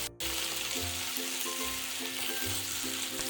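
Potato cubes frying in oil for an aloo capsicum sabzi, a loud continuous close sizzle with repeated low scraping strokes of a spatula stirring through the pan.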